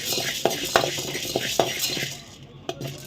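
Urad dal and chana dal roasting on a low flame in a pan, giving a steady dry rustle broken by repeated sharp scraping clinks of a spatula against metal, fading quieter near the end.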